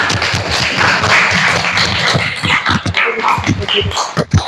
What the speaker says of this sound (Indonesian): Kasih tepuk tangan sekali lagi